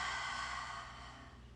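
A single long, soft belly exhale during a reclined yoga twist, a breathy airy rush fading gently over about a second and a half, close and unaccompanied by talk.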